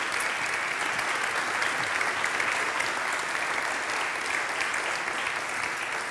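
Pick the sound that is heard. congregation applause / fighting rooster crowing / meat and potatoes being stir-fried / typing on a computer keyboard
congregation applause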